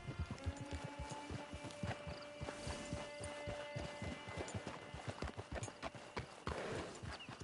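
A horse's hooves clip-clop at a steady walking pace in the Red Dead Online game, close and rhythmic, with a faint hum and brief tonal sounds layered underneath.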